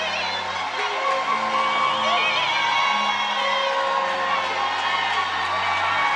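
Crowd cheering and shouting with whoops as two political figures, Moïse Katumbi and another leader, shake hands in reconciliation at a public gathering in Congo; loud, sustained, mixed voices throughout.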